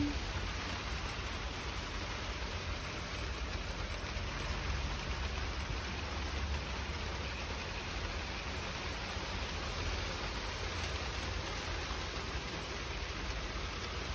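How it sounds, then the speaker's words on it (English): Steady rain pours down on a garden, a dense even hiss of drops hitting surfaces with no voices, unchanging for the whole stretch. "Let it rain, let it rain, let it rain"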